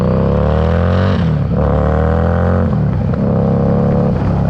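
A stock Harley-Davidson Street Rod 750 motorcycle, without a stage 1 upgrade, accelerates hard on the road: a loud, close engine roar climbs in pitch, drops briefly at two gear shifts, then climbs again.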